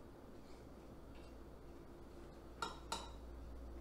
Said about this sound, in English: So I'm going to dish some of this up.